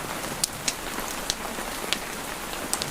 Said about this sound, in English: The rain is drumming on the thatched roof now with increasing intensity